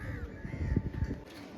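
Pigeons, Andhra, Kalodana, Madras and Giribaz breeds, shuffle and coo close by after being released, a series of low throaty coos and soft flutters over a faint background hum.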